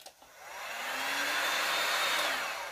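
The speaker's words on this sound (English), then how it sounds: "You want your hairdryer on high" A hair dryer on its high setting blows in a steady, close whoosh that swells and holds for a few seconds while drying resin on a freeform painting.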